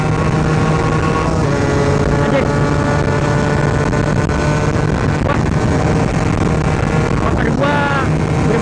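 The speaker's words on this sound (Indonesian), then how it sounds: "motor gua berebet" A Suzuki Satria two-stroke motorcycle engine with a modified, drilled piston sputters loudly and close by, its pitch wavering as it revs unevenly, with wind buffeting and a couple of brief exclamations.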